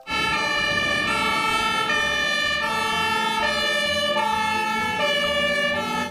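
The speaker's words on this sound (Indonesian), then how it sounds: "di sini ada mobil pemadam kebakaran" A toy fire truck's electronic siren wails continuously and loudly at close range, its steady high-pitched tones shifting in pitch a few times with no voices over it.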